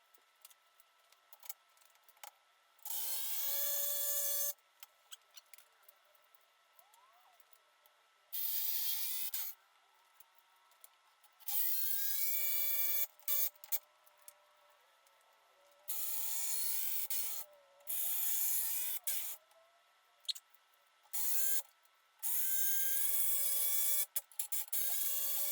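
A power drill drives screws into an IKEA cabinet kitchen island build, several bursts of whirring that rise in pitch as they spin up, separated by quiet pauses, close and fairly faint.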